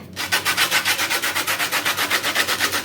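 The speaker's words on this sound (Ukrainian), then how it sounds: "Хочу цедру апельсина зверху натерти" Orange zest grated by hand onto a baked roll, a close, steady series of rhythmic rasping strokes, roughly six per second, continuing without pause.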